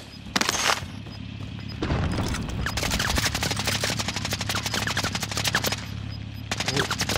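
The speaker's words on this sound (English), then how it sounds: "what is all this shooting?" Gunfire in the video game Warzone Rebirth: after two short opening bursts, a long, dense stream of rapid automatic shots rattles almost nonstop, loud and close, with a final cluster of shots at the end.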